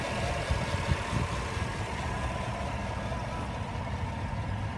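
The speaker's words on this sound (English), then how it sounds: "Very impressive engine for an SUV." An SUV engine idles steadily at close range, a continuous low rumble with even texture and no revving, running alone without voices.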